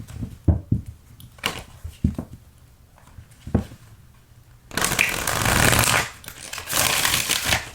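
A deck of tarot cards is shuffled close up: scattered soft taps and slides at first, then a dense riffling flutter over the last few seconds.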